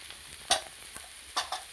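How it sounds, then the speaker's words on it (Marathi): Turmeric and coriander powder being sautéed in a pan for a spicy pasta masala, with a light sizzle and three distinct spoon scrapes and knocks against the pan, close and fairly quiet. "आता याला थोडंसं परतून घेऊया"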